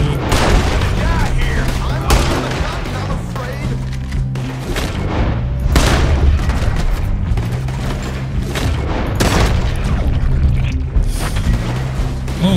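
Gunfire in a Red Dead Redemption 2 shootout, repeated loud booming shots and thuds over a dense, continuous battle din, with voices talking throughout.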